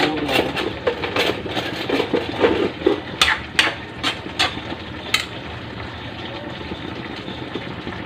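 A lid is set on a pot of pinakbet with a series of sharp metallic clanks and taps over a low cooking rumble, up close, then settling into a steady hum.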